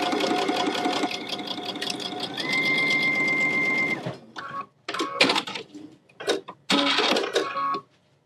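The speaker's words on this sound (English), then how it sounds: "I'm just going to stitch right along this edge" A home sewing machine running a quarter-inch seam with a 1/4 inch foot and 2.0 stitch length, first a long steady whirring run, then several short bursts with pauses, close and clear, no talking.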